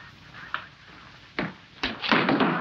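Theater doors bang shut several times in a 1948 musical comedy stage setting, a sharp thump first, then two heavier slams and a cluster of rattling knocks near the end, fairly loud against a quiet background.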